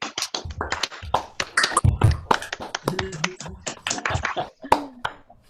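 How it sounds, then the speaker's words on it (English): Attendees of an online general meeting applauding while unmuted, a scattered, uneven patter of claps and taps through laptop microphones, with some voices mixed in. "Let's give them a huge round of applause."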